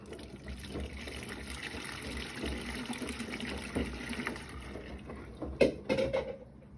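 A Bosch washing machine fills with water, a soft steady trickling and rushing of liquid that grows a little busier toward the end, fairly quiet and heard alone.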